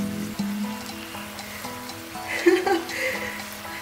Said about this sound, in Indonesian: sekarang sudah bawang putih, bawang merah kita goreng hingga wangi.